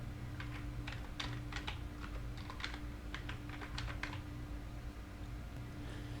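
Keys tapped on a computer keyboard while entering a plugin search in a website admin dashboard, a quick irregular run of light clicks over a steady low background hum, close and moderate in level.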